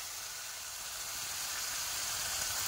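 Ground spice paste with bay leaf and salt fries for a snakehead (shol) fish curry, giving a continuous, even hiss of sizzling oil that holds steady and grows a little louder toward the end.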